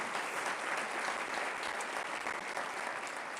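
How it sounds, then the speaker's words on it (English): Steady applause from an audience at a State of the City address, filling the clip evenly with dense clapping and no speech over it. "You can clap."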